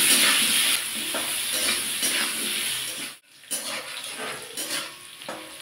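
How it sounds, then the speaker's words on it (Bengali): Cut potatoes with salt and turmeric fry in hot oil in a pan, giving a steady broadband sizzle that briefly drops out for a moment before resuming, with occasional stirring scrapes. "এবার এই তেলের মধ্যে কেটে রাখা আলুগুলো ভেজে নেব।"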